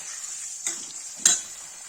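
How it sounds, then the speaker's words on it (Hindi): Bottle gourd (lauki) frying in a pan for Kashmiri al yakhni, a steady soft sizzle with two brief utensil knocks against the pan, no talking. "गाइस देखिए लौकी फ्राई होगी"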